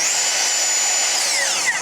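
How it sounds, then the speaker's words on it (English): Loud, continuous high-pitched whine of an AEG circular saw cutting into timber, held steady at close range, with the pitch sagging slightly toward the end. "if I got to take 3mm off with this AEG saw here"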